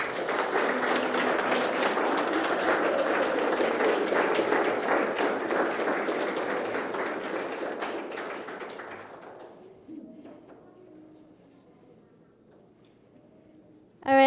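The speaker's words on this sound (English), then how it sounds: "let's give a round of applause for our winners of the awards" An art gallery audience at a senior capstone award ceremony claps for the winners, a loud, steady round of applause that gradually thins and fades out, leaving near quiet with a sudden sound at the very end.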